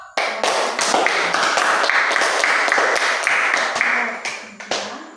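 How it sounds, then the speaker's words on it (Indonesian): A classroom of young pupils applauds a group after its presentation, with brisk, dense clapping close by that runs steadily for several seconds before tapering off, along with a few voices. "Sekarang kita kasih aplaus tepuk tangan untuk kelompok."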